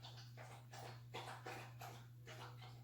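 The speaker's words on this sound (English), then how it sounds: "That sound is my dog drinking her water." A dog laps water from a bowl indoors in a quiet rhythmic series of wet slurps, about eight in under three seconds, faint and close over a steady electrical hum.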